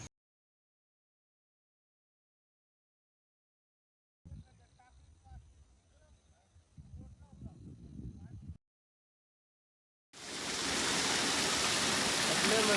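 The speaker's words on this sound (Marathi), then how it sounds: "आपल्या नदीला भरपूर पाणी आलेलं आहे" A river swollen by overnight rain rushes past a small weir; after a long quiet stretch and faint low rumbling, a loud, steady roar of flowing water fills the end.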